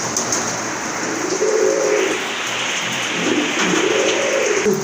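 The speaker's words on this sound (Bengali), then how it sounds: "এখানে কিন্তু আরেক জোড়া কবুতর আছে" Pigeons coo in low, rolling phrases at a pigeon sale, two clear bouts over a steady hiss of background noise.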